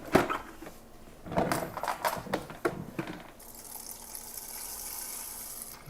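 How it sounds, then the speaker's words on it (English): Clean water is poured into a JOYMOOP mop bucket: a few bursts of splashing and sloshing at first, then a steady hissing pour filling the bucket up close. "I'm actually just going to pour it into here"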